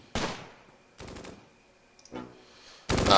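Explosive bursts of 3-inch mortar fire in the Close Combat: Gateway to Caen war game, several sharp loud reports spaced apart with quieter rumbling in between and a final heavy blast at the end.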